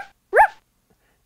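Kirby, a dog in the Little Monster at School video game, gives one short, sharp bark, loud and close in near silence. A second bark starts just at the end.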